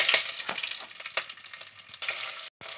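Green chillies fry in hot coconut oil with mustard seeds, giving a steady close sizzle punctuated by occasional sharp crackles and a brief stir, with no voices.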